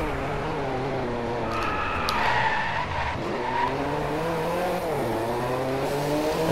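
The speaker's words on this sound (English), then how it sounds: "Today I'm playing the Drive Club and driving this 766 bhp Hypercar." A game-engine RUF CTR3 Clubsport hypercar rated at 766 bhp, driven in DriveClub, snarls at high revs as its tires squeal through a skid. The engine pitch rises, falls and rises again.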